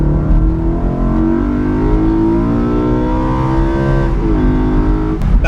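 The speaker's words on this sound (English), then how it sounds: "you always ask to hear this engine" A BMW M3 with the S65 4.0-litre V8 revs hard, loud and close, its rising and falling engine note holding steady for several seconds with a brief dip near the end.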